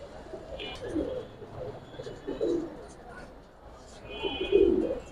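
Soft throaty cooing from pigeons kept for sale at a Gribaz pigeon dealer's, several low burbling calls repeating through the stretch with some chirps and background hum, moderately near.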